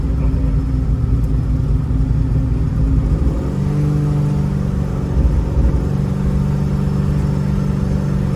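A 1955 Chevy Bel Air pulls away with a deep, rumbling engine that climbs, drops briefly at a gear change and then builds again, loud and close throughout.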